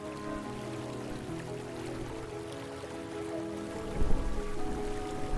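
A river streams steadily through a forest, its continuous rushing and trickling water filling the scene at a moderate distance, with a slightly louder splash or surge near the end.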